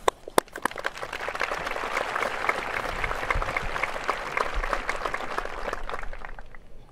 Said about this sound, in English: please join with me one more time in applauding the successes of these graduates